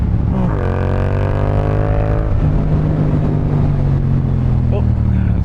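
A motorcycle engine revs and accelerates hard, its rising harmonic whine sweeping up then settling into a steady, loud drone on a high-speed commute in warm weather, with wind noise throughout.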